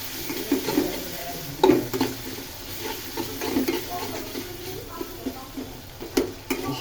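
Ginger and garlic sizzle in hot oil in a pan, a moderate crackle under repeated scraping and clinking strokes of a spoon stirring, the knocks coming irregularly every second or so.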